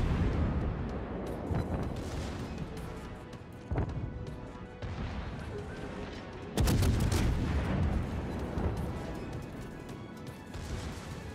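Torpedo launches and battle effects from the World of Warships naval game play out as muffled booms and crashing impacts, with a sharp louder burst partway through over a rumbling background.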